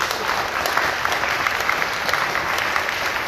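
Audience at a Catholic youth gathering in Port-au-Prince applauds steadily, a dense, even wash of many hands clapping throughout with no voices standing out.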